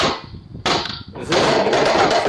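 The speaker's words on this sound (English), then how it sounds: "whacking the device with a hammer or broom handle" A hammer whacks a Ring doorbell camera, three sharp impacts in quick succession, the last followed by rattling, clattering noise.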